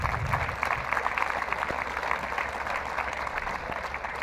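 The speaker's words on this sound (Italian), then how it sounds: "Quindi per lui un applauso di benvenuto." An audience at the opening of new synthetic sports pitches gives a welcoming round of applause, a dense, steady clatter of clapping that stays fairly quiet and even for the whole stretch.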